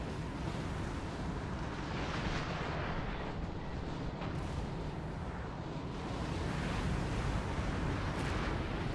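Cannon artillery thundering across a Napoleon Total War battlefield, a continuous rumbling barrage of booms and distant blasts at moderate level with no pause.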